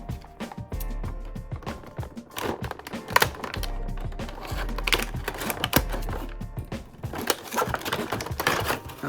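An action figure being cut free of its plastic retail packaging, heard as a close, dense run of irregular snips, clicks and crinkling plastic with no talking.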